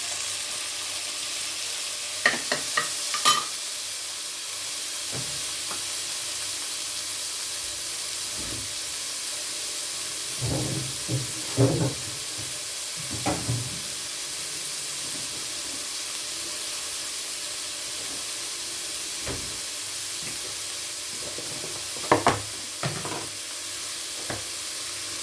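Tomatoes fry in a pot for a one-pot rice dish, giving a steady soft sizzle and hiss with several brief stirring scrapes scattered through.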